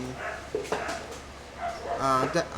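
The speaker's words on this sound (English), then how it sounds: "sorry for my dog." A dog barks and whimpers in a few short yips and whines in the background while a person talks over it.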